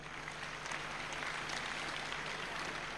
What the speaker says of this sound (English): I think we need to give a round of applause to all the candidates.